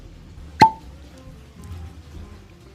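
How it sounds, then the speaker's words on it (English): A single sharp cork pop from a bottle of Buffalo Trace E.H. Taylor Small Batch bourbon, close and crisp, followed by quiet room tone. "People over at Buffalo Trace know how to do a cork pop"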